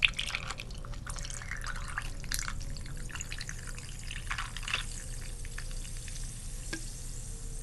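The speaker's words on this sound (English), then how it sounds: "And it makes some nice fizzy sounds." Lime-flavoured sparkling water poured over a glass of tiny ice cubes gives a close, continuous fizz and crackle of popping bubbles with light drips, soft and steady throughout.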